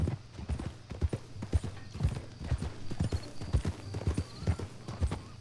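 Horse hooves clip-clop at a steady walking rhythm in Red Dead Redemption 2, each strike crisp and close over a low background hum, with a faint hint of the horse's breathing.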